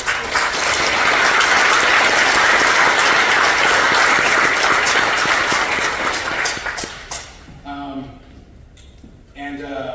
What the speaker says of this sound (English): one more round of applause for the most important VIPs